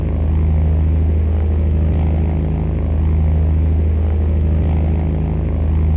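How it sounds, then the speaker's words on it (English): A continuous, droning propeller-engine buzz from a plane in Call of Duty on the Nintendo DS, loud and steady, with a pulsing low rumble and no other sounds on top. "you just sit there and wait while you hear the buzz of the plane"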